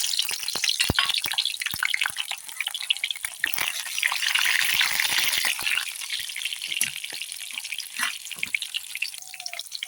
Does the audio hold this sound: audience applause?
no